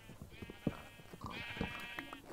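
Sheep bleating in the Minecraft video game, two or three wavering synthetic baas in close succession, fairly loud against light game sounds.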